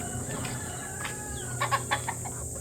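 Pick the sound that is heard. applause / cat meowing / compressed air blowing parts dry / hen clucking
hen clucking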